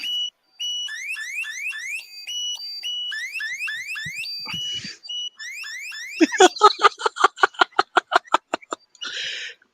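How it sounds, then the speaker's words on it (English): A feeble electronic alarm goes off at New Year, repeating rising chirping tone sequences, then switching to a rapid train of sharp pulsing beeps, with a brief voice in between. "That weak ass alarm."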